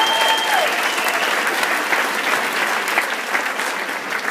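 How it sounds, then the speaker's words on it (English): A school audience at back-to-school night gives a warm round of applause for the librarian, sustained crowd clapping with a brief tone at the start. "Let's give her a huge round of applause."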